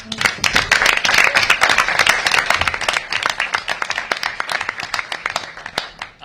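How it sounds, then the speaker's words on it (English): Audience applause in a studio venue at a round table event on 19th and I Street, Washington DC: dense, close clapping that rises quickly, holds steady, then thins into scattered claps toward the end. "Give yourselves a round of applause."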